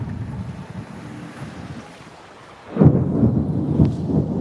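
Thunder rolls through a thunderstorm outdoors: a low, steady rumble with wind buffeting the microphone, then a heavier boom swells in about halfway through and keeps growling, loud and near, with no voices.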